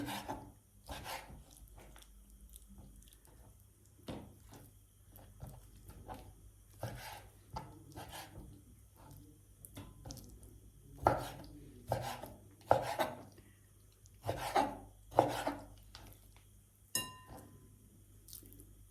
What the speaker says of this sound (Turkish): Orta kalınlıkta doğrayalım.